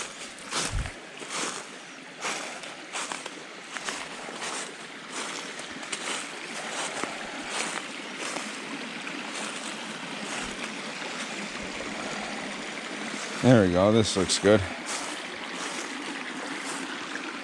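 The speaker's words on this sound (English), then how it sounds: "good flow of water right here" Stream water flows steadily in the woods on a mountain hike, a continuous close trickle and gurgle with a brief splash, while someone speaks briefly over it.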